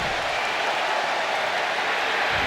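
A wrestling arena crowd in the WWE 2K26 video game roars and applauds, a steady dense wash of cheering noise filling the whole stretch at fairly loud level, with no clear speech over it.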